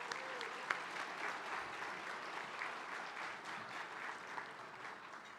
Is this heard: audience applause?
yes